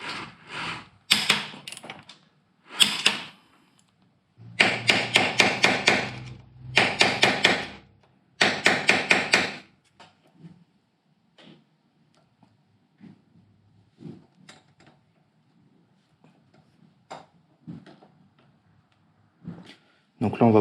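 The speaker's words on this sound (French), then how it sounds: "je vais m'attaquer au resserrage du pignon de sortie de boîte" A wrench works the gearbox output sprocket nut on a Yamaha 600 Fazer motorcycle with several clusters of sharp metallic clicks and taps. Quieter scattered knocks and handling noises follow, and someone speaks in French in the background.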